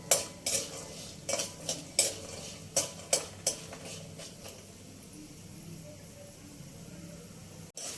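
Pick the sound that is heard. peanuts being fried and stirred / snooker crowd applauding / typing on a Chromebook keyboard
peanuts being fried and stirred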